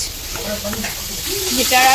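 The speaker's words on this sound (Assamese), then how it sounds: "মাছ ফ্ৰাই কৰি থকা হৈছে, লোকেল মাছ" Local fish frying in a pan gives a soft, steady sizzle close by, rising toward the end, with faint background voices underneath.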